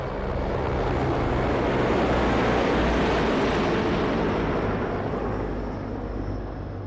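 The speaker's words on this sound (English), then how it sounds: "coming in from your right are 3 Mi-35 helicopters in a wing formation led by Wing Commander A.K. Chaudhary." Three Mi-35 helicopters fly past in wing formation at an air force station ceremony, giving a steady, loud, broad roar that holds for several seconds and eases slightly at the end.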